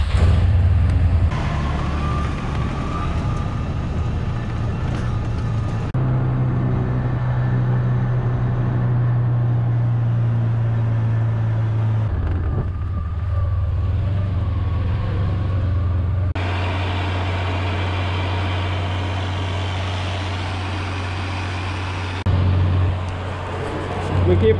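A vehicle drives along a farm road, its engine a steady low drone with shifting road noise and changes in pitch as it travels.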